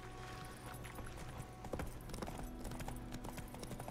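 Horse hooves gallop in a steady clip-clop rhythm in The Witcher 3 video game, fairly quiet and continuous over ambient game sound and faint music.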